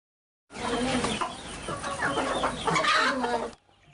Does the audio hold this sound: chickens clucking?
yes